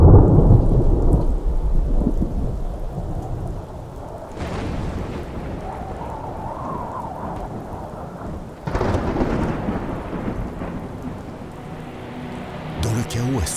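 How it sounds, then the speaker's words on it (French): A violent winter storm over Deauville's coast, rendered as a sound effect: heavy thunder rumbles and crashes in repeated surges with pouring rain and roaring wind, loud and close, partly under a narrating voice. "Une tempête d'une violence inouïe s'abat sur Deauville."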